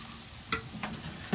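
Steak burritos sizzle on a Weber 22.5-inch kettle grill with a steady low hiss and a few short sharp crackles and pops, heard alone at moderate level.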